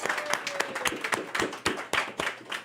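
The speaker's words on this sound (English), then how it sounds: "How about a round of applause?" A small live-show audience at Sunrise Restaurant gives a brief, scattered round of applause, with sparse individual claps spread unevenly across the moment at moderate distance.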